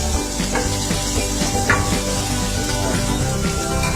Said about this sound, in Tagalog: Yan, simulan na natin pag-isa.